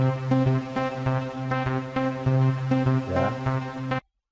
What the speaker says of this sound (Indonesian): After Midnight 1 suaranya seperti ini